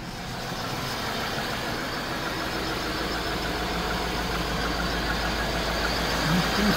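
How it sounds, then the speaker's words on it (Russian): A car engine idles steadily on its first start after an oil change with Texaco Havoline 5W-30, a constant low hum heard up close without interruption. "двигатель на первом пуске"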